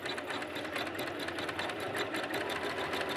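A sewing machine doing free-motion embroidery stitching on jeans, a fast continuous rhythmic needle chatter at close range, steady throughout.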